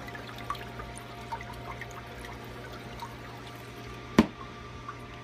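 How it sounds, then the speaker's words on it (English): Water in a 125 gallon African cichlid aquarium is churned steadily by filters, powerheads and wave makers, giving a continuous wash with a low hum and one brief knock. "between all the power heads and the wave makers and whatnot, and the outputs from all of the filters, it's really just moving a ton of water here"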